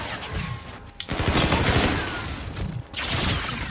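Rapid gunfire bursts from Infinite Warfare rattle in quick succession, close and fairly loud, with short gaps between volleys.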